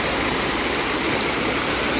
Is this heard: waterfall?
yes